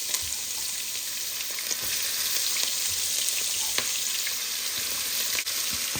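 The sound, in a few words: frying fish with onions added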